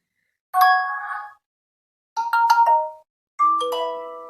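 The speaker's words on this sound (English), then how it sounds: "The default notification sound is this, which is kind of annoying." Default notification chime of a Motorola G8 Power phone, three clean bell-like ding tones in separate bursts, close and clear against silence.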